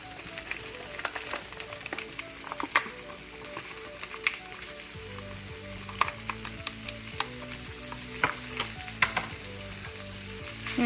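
Meat frying in a pan for penne rustica, giving a steady close sizzle with scattered pops and crackles and a stirring scrape in the second half, with no talking.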